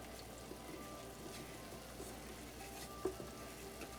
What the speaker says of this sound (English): I have put my little container over in my water. It's boiling.